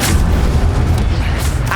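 Incendio fire spell cast in the video game Hogwarts Legacy, a dense, rumbling burst of flame with a booming low end that holds steady for nearly two seconds under busy game effects.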